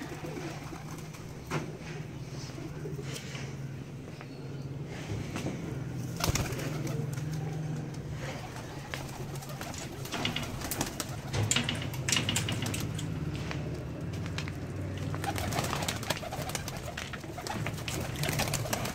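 Two breeding pairs of pigeons coo inside a cage, a steady low murmuring with scattered rustles and taps running throughout at moderate, close volume.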